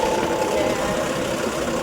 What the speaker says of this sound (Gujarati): ટ્રેક્ટર ચાલુ થઈ ગયું હોય ને